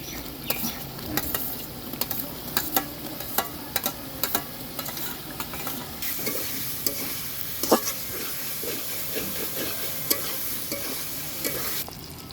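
Rohu fish roe sizzles and fries in a pan while a spoon stirs and scrapes it repeatedly, sharp scraping clicks over a steady crackle that grows denser in the second half.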